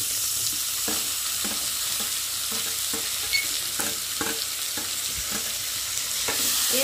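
Chopped tomatoes sizzle and fry in a pan while being stirred, with a steady hiss underneath and repeated soft scraping strokes of the spoon, close and fairly quiet.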